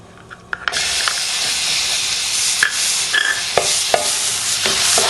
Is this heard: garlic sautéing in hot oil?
yes